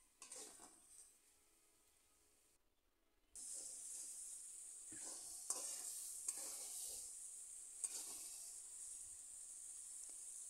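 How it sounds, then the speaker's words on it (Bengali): Spice paste stir-fried in a pan, quiet at first, then a strong hissing sizzle with sharp clicks and scrapes of stirring, up close and unbroken; no voices. "এবার ভালো করে এই মশলা কষিয়ে নেব।"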